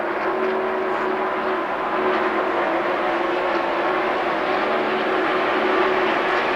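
NASCAR stock cars race at the 1996 UAW-GM Teamwork 500, a steady loud engine roar from a distance with no break, like a field of cars circling the track.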